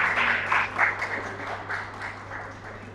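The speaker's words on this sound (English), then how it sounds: "Can we have a big round of applause?" An audience at a health workshop event applauds, a soft, fairly distant patter of clapping that rises briefly and then thins out.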